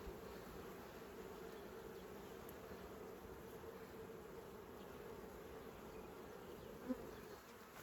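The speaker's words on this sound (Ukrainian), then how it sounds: "Сила рая. Фу. Чудова сила рая. Прибираю тут вулику." A honey bee swarm hums steadily around a beehive, a dense, even buzzing drone that holds for several seconds, with one small tap near the end.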